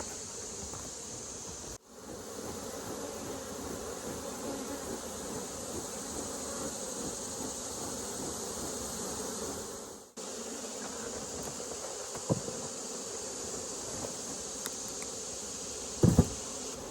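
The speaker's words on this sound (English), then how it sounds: "You'll see that there are some bees still in there." Honey bees buzz inside a box during a varroa mite check, a steady, dense droning hum that holds evenly throughout, briefly cut twice, with a few faint knocks near the end.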